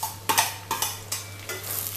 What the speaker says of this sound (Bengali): দেখো তেল আমার গরম হয়ে গেছে, এর মধ্যে আমি পেঁয়াজ বেরেস্তাটা দিয়ে দেব।